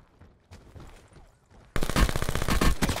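Gunfire in a multiplayer video game firefight near some barns breaks out suddenly after a quiet stretch, a loud, rapid burst of repeated shots that continues to the end; faint talk comes before it.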